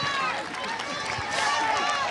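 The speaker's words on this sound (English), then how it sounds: "the crowd is cheering for all the little cheerleaders" Crowd cheering for young elementary-age cheerleaders at a school homecoming parade: a steady outdoor wash of voices and shouts with high whoops, and a speaking voice over it.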